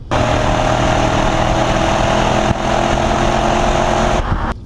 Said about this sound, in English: I haven't even been bothering to listen to anything except for that exhaust noise